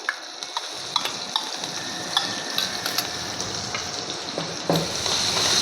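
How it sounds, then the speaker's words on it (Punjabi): Whole cumin, coarsely crushed ginger, garlic and two green chillies sizzle and fry steadily in hot oil in a pan, with occasional stirring clicks and a brief louder spit near the end; no talking. "ਇਸੇ ਤੇਲ ਦੇ ਵਿੱਚ ਹੀ ਹੁਣ ਆਪਾਂ ਅੱਧਾ ਚਮਚ ਪਾ ਦਾਂਗੇ ਸਾਬਤ ਜੀਰਾ"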